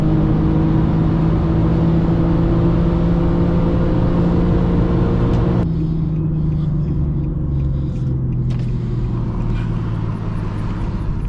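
An Infiniti G37 with a VQ engine pulls hard in a highway roll race, a loud steady engine roar with a rising tone that drops sharply partway through as the revs fall, then rises again.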